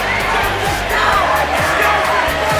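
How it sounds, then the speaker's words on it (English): Crowd at a high school Class 3 district championship basketball game, Jefferson R-7 vs. St. Pius X, roaring and shouting continuously in a loud gym, with sneaker squeaks and thumps cutting through the din. "animated is the crowd"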